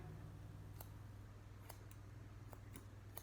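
Scissors snip hair straight across during a home haircut for a man, giving a few faint, sharp, widely spaced cuts over a steady low hum.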